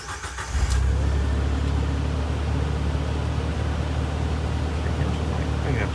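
1995 Jeep YJ Wrangler engine idling steadily and close by after a brief rattle at the start, a continuous low rumble with faint voices underneath.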